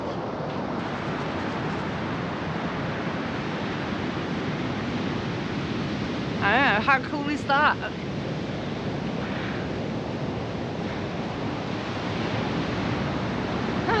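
Big sea waves surging up a beach in Portugal, a steady roaring wash of surf with wind rumble throughout, while a person briefly speaks midway.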